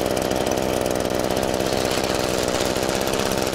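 An Echo PB-2620 handheld gas leaf blower running at a steady, loud and close two-stroke idle, its engine putting out a fast even chug with no voices over it.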